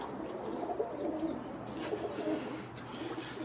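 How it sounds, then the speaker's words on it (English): Birmingham Roller pigeons coo steadily inside a loft, several soft overlapping calls over a constant low background hum, with no talking. "I got a lot of birds waiting for their turn"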